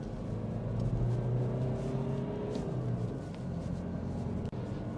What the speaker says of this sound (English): So just accelerate up this hill here.